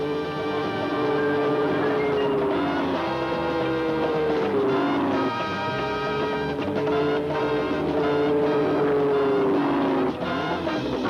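Porsche cars, from production models and prototypes to 1,000-horsepower racing machines, run on the factory test track, giving a loud, continuous engine roar with rising and falling pitch sweeps as cars accelerate and pass.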